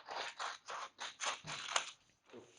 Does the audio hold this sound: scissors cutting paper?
yes